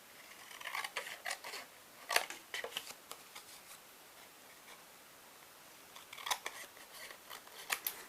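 Scissors snip through fabric being trimmed to size for a journal cover, a series of quiet crisp cuts in short bursts with pauses between them.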